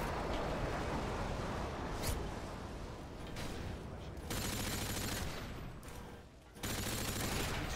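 Dense gunfire from Call of Duty Modern Warfare 2 team deathmatch on the Scrapyard map, with continuous loud bursts and rattling fire that breaks off briefly before resuming just as heavily.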